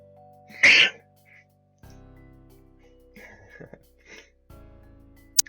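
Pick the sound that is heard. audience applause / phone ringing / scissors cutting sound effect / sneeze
sneeze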